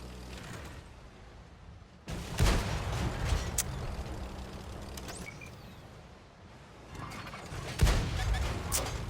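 Tank cannon shots in a tank battle game, two loud booming blasts several seconds apart, each trailing off into rumble over a steady background of engine and battlefield noise.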